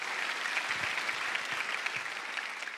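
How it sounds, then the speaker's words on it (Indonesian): Dense, steady applause from a studio audience at an Indonesian comedy roast show, loud and continuous throughout, with no voices over it. "Tepuk tangan Bang Bedu."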